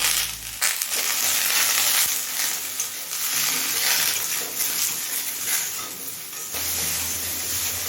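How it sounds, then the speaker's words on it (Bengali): Mixed vegetables fry in hot oil with salt and turmeric powder, a loud, steady crackling sizzle with scraping stirring noises throughout, briefly quieter at the start and end. "নুন আর হলুদটা দিয়ে ভালোভাবে মিশিয়ে নিয়েছি সব সবজিগুলোকে তিন চার মিনিট ভেজে নিয়েছি"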